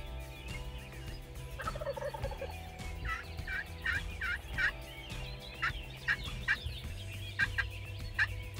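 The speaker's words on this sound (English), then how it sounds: "once I heard that gobble, my heart was pounding." A wild turkey gobbles repeatedly at a moderate distance, a series of rattling calls spaced a second or so apart against quiet outdoor background.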